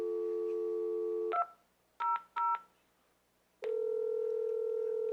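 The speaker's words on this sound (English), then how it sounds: "And now we're ringing one of the other phones here in the house." Grandstream GXV3175 video phone placing a call: a steady dial tone cuts off, short bursts of keypad tones follow, then a continuous ringback tone sounds, all clear and close with no talking.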